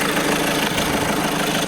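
A 2012 Volkswagen Vento Trendline diesel engine idles close by, giving a loud, steady, even rumble with a faint knocking texture throughout.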